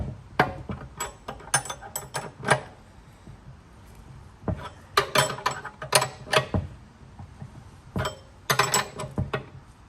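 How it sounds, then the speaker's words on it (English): A wrench turning a nutsert on a Jeep Wrangler YJ/TJ skid plate, giving clusters of metallic clicks and clinks in short ratcheting bursts with pauses, close and crisp. "Turn the nutsert with the wrench, or turn the nut with the wrench."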